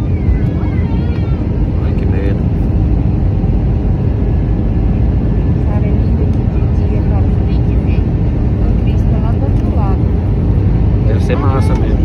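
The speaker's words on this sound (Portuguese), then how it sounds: "Ah, parece que é um helicóptero" A broad, continuous roar of an aircraft passing low overhead, loud and steady throughout, with people talking underneath it.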